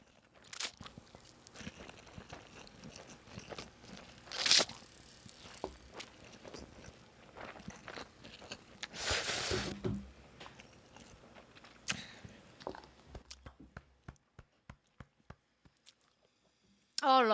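Someone eats cheesy buldak noodles close up, with soft chewing and slurping, a few sharper crunchy bites and rustles spread over a quiet background, and occasional talk.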